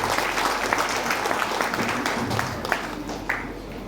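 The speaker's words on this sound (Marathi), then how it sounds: "जोरदार टाळ्या." Applause from the audience at a Kutumb Melava 2024 family gathering during the chief guest's address, a steady wash of clapping throughout with a few sharper individual claps standing out.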